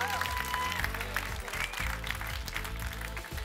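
A live audience at an improv match applauds both teams, a dense sustained patter of clapping from a nearby crowd that carries steadily with a voice heard over it.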